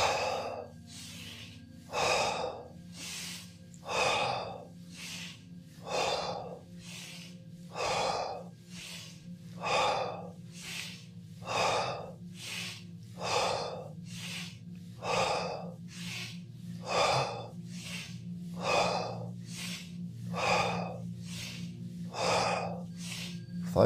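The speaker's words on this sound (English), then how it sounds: "round number one, spinal breath." Kundalini spinal breath, a steady run of about twenty forceful, close breaths at an even pace, each a sharp breathy burst over a low constant hum, with no talking.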